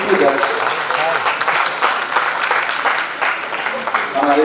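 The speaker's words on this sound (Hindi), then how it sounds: "आप एक बार अपने लिए भी जोरदार ताली बजाएं" Audience at a folk arts event at a university in Darbhanga claps loudly in steady, dense applause, with a voice speaking over the clapping near the start and end.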